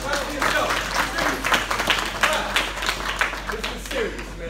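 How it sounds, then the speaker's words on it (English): A crowd of fathers at a school drop-off event claps in irregular bursts and pulses, a lively, fairly close patter of many hands with voices mixed in. "Why don't you clap for yourself?"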